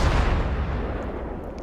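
Warship guns firing in World of Warships aboard the cruiser Fiji, a single heavy boom that decays into a long rumbling tail, loud and close, with no talking.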